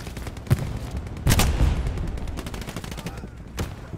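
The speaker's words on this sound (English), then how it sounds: "Machine gun." Machine gun fire in Hell Let Loose on PS5 rattles out in rapid bursts, with a loud close volley near the middle and further shots spread across the scene. There is no speech.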